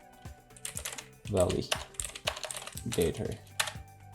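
Keystrokes on a computer keyboard as a pip install command is entered, a short burst of clicks mixed with a man's speech that partly overlaps them.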